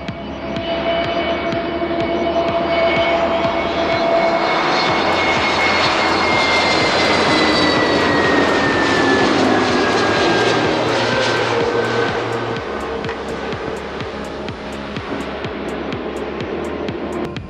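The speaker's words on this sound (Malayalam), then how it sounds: "ആ ഫ്ലൈറ്റ് അവിടെ നിന്ന് അപ്രോച്ച് ചെയ്യുന്നുണ്ട്." A passenger jet approaches Cochin International Airport to land, its engine roar swelling to a loud, steady drone with a whining tone, then easing slightly as it passes overhead.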